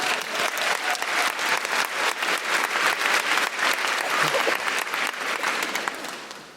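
A theatre audience applauds in sustained, dense clapping that holds steady and then fades slightly at the end, with no speech over it.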